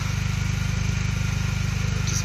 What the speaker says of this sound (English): You're probably able to hear the exhaust from there.